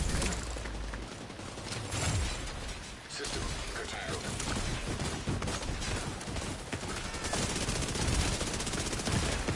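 Sustained automatic gunfire in The Division 2 video game, a dense, continuous crackle of rapid shots mixed with game noise and faint voices throughout.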